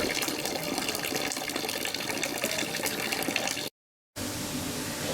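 Hot water pours steadily into a bucket at a site water heater, a continuous gushing flow that runs loud and unbroken before a brief cut, then resumes.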